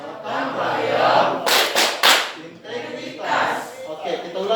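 A group of people chanting the Tepuk PPK, Indonesia's character-education clapping routine, in a classroom. Voices chant with a few sharp, loud claps clustered in the middle.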